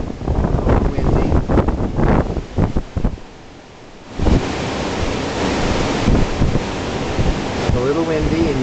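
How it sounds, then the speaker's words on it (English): Strong wind gusts outside a kitchen window on a rainy morning, a dense roaring rush that drops away briefly midway and then returns, with a voice speaking early on. "A little windy, and maybe you can see rain blowing through."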